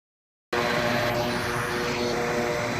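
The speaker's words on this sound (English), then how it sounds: "I got a drone." A drone flies in the VR shooter game Onward VR, a steady loud whirring rotor drone that kicks in abruptly after half a second of silence and holds without a break.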